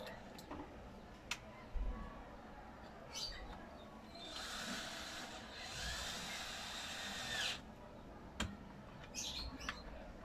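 A power screwdriver drives screws while fitting a replacement dryer motor in a washing machine, running in a steady whirring burst of a few seconds mid-clip, with scattered ticks and clicks of handling around it.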